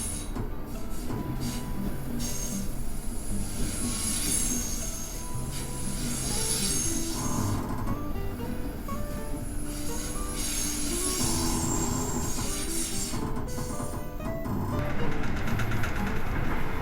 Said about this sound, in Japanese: 西方面のレールジェットが来ましたよ。